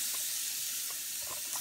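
Tofu put back into a hot pan: a loud, steady sizzle and hiss with a few faint clinks and stirring sounds, close up and without speech.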